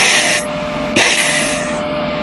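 Leftover shielding gas hisses out of a MIG welder hose as a close, steady, loud rush that briefly dips and then surges again near the middle.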